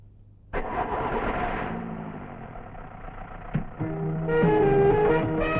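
A vehicle engine cranks and catches, then settles into a steady idle that rises into a louder revving hum toward the end, nearby with no talk over it.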